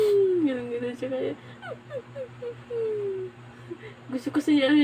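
A dog whimpers and whines in a series of short high-pitched cries, with a few yips, close by and alone over a faint steady hum.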